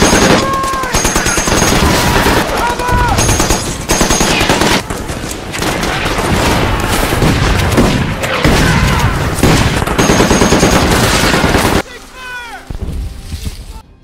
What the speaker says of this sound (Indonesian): Marinir Amerika melepaskan tembakan tanpa henti hingga amunisi mereka hampir habis.